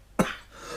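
A single short, sharp cough, close and abrupt, followed by quiet.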